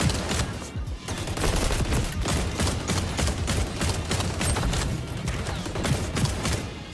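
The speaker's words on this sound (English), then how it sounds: "I don't know how I feel about this, about these weapons. It's so loud." Gunfire from weapons in the video game XDefiant, a dense, loud run of rapid shots that overlap into a near-continuous barrage for the whole stretch, with no talking.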